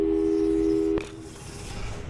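A telephone busy signal in the Portal 2 video game: a loud steady electronic tone holding for about a second, then cutting off abruptly into quiet low background hum.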